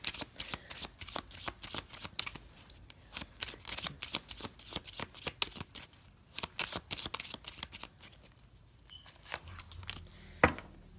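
Tarot cards shuffled by hand and pulled from the deck, with quick riffling and snapping bursts in an uneven rhythm, close and quiet with no talking.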